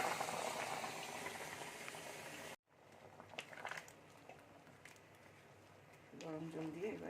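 Hot water is poured over fried fish heads and prawns in a pan and bubbles loudly, then after a sudden cut a faint simmer continues with soft clinks while a voice talks toward the end.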